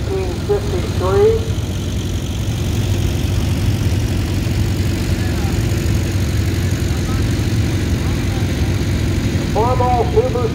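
A Farmall Super C tractor rolling down a parade track at a farm club parade, its engine a steady low idling rumble throughout, with someone talking over it.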